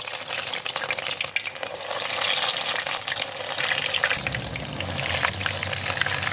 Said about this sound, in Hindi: इधर हमारा ऑयल भी गर्म हो गया। अब हम एक एक को पकड़ते जाएंगे और इसमें इसको डालते जाएंगे।